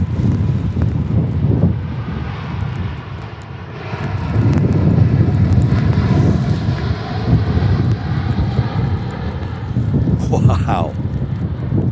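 An Airbus A350 jet departs from Manchester Airport in stormy wind, giving a loud, sustained roar of engines mixed with heavy wind buffeting on the microphone, swelling midway and continuing throughout.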